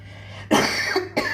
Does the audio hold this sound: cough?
yes